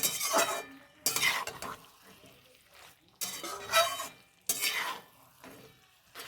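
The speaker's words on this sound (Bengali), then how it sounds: "এবারে খুব ভালো করে মশলাটা এর মধ্যে কষিয়ে নিতে হবে।" Spice masala with chilli powder and green chillies being sautéed in a pan for a potato, papaya and mung dal dish, in several bursts of sizzling and spoon scraping separated by brief quieter gaps.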